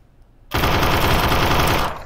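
AR-15 rifle fire in a VR video game: a loud, rapid automatic burst of close gunshots starting abruptly after a quiet moment and running continuously for over a second before cutting off.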